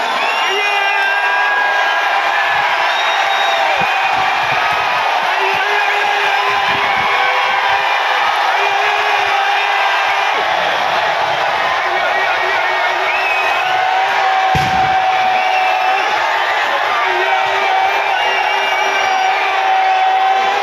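Crowds cheer and whoop across the village quarters at the Chinakkathoor Pooram festival as effigy horses are readied, a dense continuous roar of shouts and yells with scattered louder whoops throughout.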